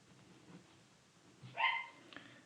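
A pet dog indoors gives a single sharp bark near the end, loud against a quiet room with faint background murmur before it.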